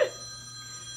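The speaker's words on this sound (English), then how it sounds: "There's your phone again, Phil." A telephone rings briefly at the very start in a room where someone is painting a wood medallion, a short burst that fades quickly into steady background hum.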